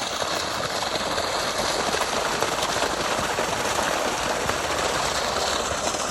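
Irrigation water pumped by a motor gushes into a farm field, a loud, constant rushing wash of flowing water with a steady rumble underneath and no break.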